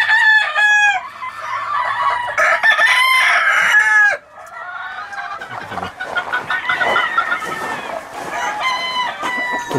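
Several half-Kelso roosters on a ranch crow loudly and repeatedly nearby, with hens clucking and other fowl calling in between.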